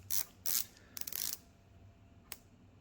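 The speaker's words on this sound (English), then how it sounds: "Ceramic bezel, very easy to turn." Ceramic bezel on a 43mm dive watch being turned by hand, giving a few crisp, close ratcheting clicks in quick bursts followed by one lone click, with no voices.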